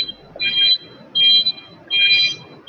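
An alarm goes off in three loud, steady beeping bursts of roughly half a second each, spaced by short gaps, like a smoke or security alarm sounding close by with no one talking.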